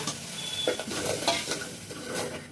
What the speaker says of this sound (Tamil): நல்லா எண்ணெய் விட்டு வர வரைக்கும் நல்லா வதக்குங்க